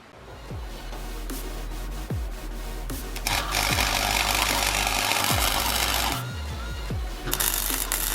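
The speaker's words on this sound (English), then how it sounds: "I just need to weld another one of those linkages on the end here" Welding a steel linkage onto a motorbike-swapped off-road buggy: a continuous loud crackling arc, briefly interrupted, with low engine-like hum and occasional clanks, close up and without talk.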